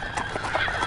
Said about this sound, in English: Sir, I hear horses coming down the road.